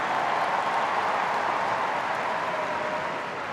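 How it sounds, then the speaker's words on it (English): Steady, sustained applause from a stadium crowd at a Chelsea v Tottenham women's football match as the captain is substituted off, a dense even wash holding level throughout and easing slightly at the end. "Captain Magdalena Eriksson withdrawn. Receives the applause."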